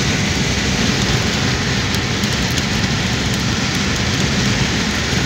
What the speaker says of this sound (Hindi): बादल छाए हुए हैं ना, तो बारिश हो रही है